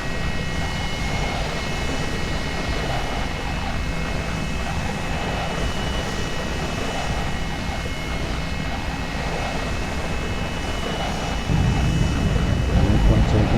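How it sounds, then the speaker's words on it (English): A passenger airliner in the X-Plane 11 flight simulator rolls down the runway for takeoff, its engine roar a steady, even drone throughout that swells a little louder near the end, with faint cabin ambience underneath. "Airplane taking off."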